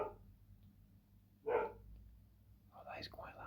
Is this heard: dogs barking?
yes